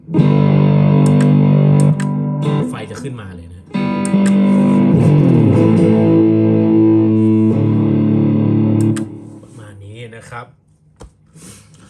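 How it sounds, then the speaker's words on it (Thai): Electric guitar through a Kemper Profiler Stage switched from clean to distortion: heavily distorted chords ring out in long sustained bursts, with a brief spoken remark, then trailing off into scattered quieter notes. "แต่ถ้าเมื่อไหร่เราอยากเปลี่ยนจากเสียงคลีนในชแนลเดียวเนี่ย ให้มันเป็นดิสโทชัน"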